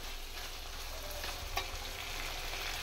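Chicken pieces frying in a pan over a high flame for chicken fry, a steady dense sizzle with a brief clatter of stirring near the middle, close and continuous with no talking.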